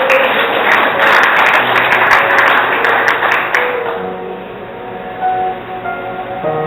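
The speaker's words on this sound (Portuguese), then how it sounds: "Quando estão entendendo, dá uma aplauso ao Senhor Jesus" A church congregation applauds during a Christian service, a dense loud burst of clapping that fills the first few seconds and then thins out and fades.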